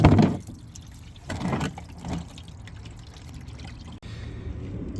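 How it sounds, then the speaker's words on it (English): Transmission fluid gushing from the drain plug of a 2010 Honda CR-V, a loud rushing pour at first that settles into a steadier stream and dripping, close by. "it's a lot of pressure and a lot of liquid coming out at once"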